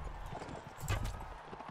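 Horses' hooves clip-clop in a rapid, uneven patter during a Mount and Blade Warband battle, several mounts close together over low rumble and faint game voices.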